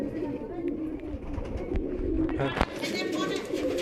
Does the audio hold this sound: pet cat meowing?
no